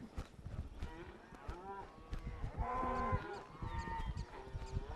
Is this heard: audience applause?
no